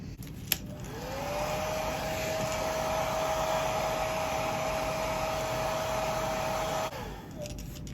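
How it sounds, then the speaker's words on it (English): A hair dryer dries paint on a hand-painted fishing lure. After a click, it whirs up to a steady, close, loud blowing hum with a constant tone and then cuts off near the end. "Then we're gonna hit it with the hair dryer again."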